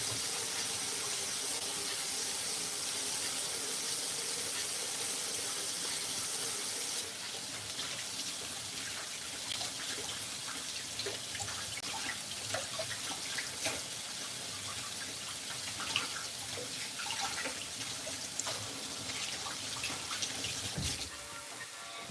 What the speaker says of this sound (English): After I peel them once and cut them, I'll wash them again.